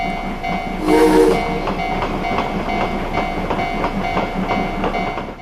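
A train rolls past on the rails with steady rhythmic clacking and a rumbling hum, and a brief whistle-like tone early on.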